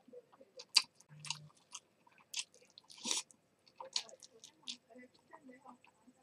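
Close, intermittent chewing and crunching while eating yakisoba and a slightly hard rice ball, with irregular bites, smacks and clicks spread across a quiet room.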